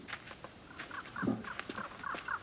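A bird gives a repeated call, read as a sad song and an omen of death in a war-torn setting, a series of short, evenly spaced notes at moderate distance over quiet background.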